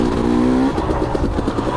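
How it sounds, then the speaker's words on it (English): A motorcycle shifted into second gear without the clutch, loud and close: a rising engine note holds, cuts off abruptly at the shift, then drops into a lower pulsing rev. "See, I just hit second, did not clutch."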